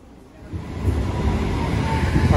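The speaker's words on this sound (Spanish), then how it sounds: "Aquí está llegando el tranvía" A tram arriving at a stop in Istanbul, a low rumbling roll that grows steadily louder as it approaches, with broadband rushing noise and no talk.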